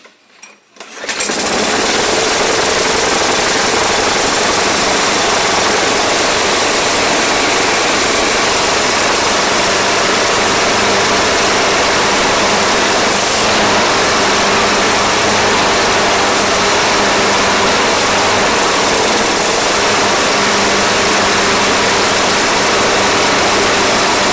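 A Craftsman Gold lawn mower engine runs loud and close after starting, a steady rough roar with a constant throb that holds unbroken for over twenty seconds, sitting outdoors with no talking.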